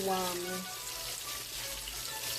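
Shark pieces for Caribbean bake and shark fry over medium-high heat in oil already used for frying bakes. A steady, dense hissing sizzle runs throughout, with a faint tonal sound briefly over the start.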